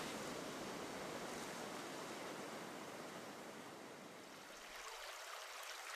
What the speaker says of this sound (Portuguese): A riqueza das águas se estende também para a praia varrida pelas ondas.